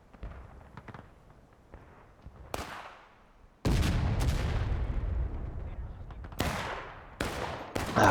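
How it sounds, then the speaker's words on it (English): Cannon blasts from Confederate artillery in The Blue and the Grey, a Civil War battle game, booming out in several loud, sharp reports with long rumbling tails over distant battle noise, with no voices heard. "CS artillery is doing good work now that they're in position"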